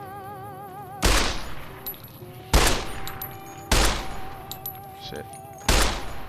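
Four sharp, loud gunshot blasts from the video game Fallout New Vegas, spaced about a second or more apart, each with a short decaying tail over faint background music, with a brief muttered voice between shots.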